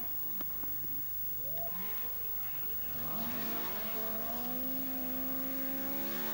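Henri Toivonen's rally car on a downhill rallysprint run at the 1981 Welsh Rallysprint, its engine rising and falling through gear changes before a strong, sustained revving pull as it powers away, under faint commentary.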